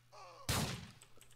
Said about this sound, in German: Ich mag das, dass wir mit der Knarre rumschießen.